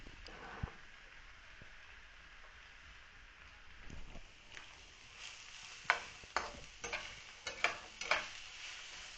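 Egg frying in oil in a pan for prawn and chicken mixed rice, a low quiet sizzle building into sharper crackles and spatters in the later half, close by.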